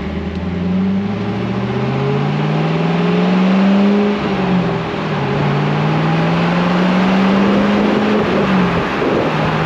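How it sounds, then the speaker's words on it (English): A 2002 Pontiac Trans Am WS6 with an LS1 V8 and six-speed transmission accelerates, its deep engine note climbing in pitch through the gears, dipping at each shift and rising again. The engine is loud, close and steady, with no talking. "the LS1 has no problem pulling this car down the road."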